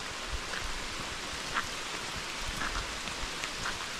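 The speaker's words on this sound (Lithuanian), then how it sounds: "Lietus lindė karstai." Steady rain falls outdoors, an even hiss of drops with occasional louder splats close by; no voices.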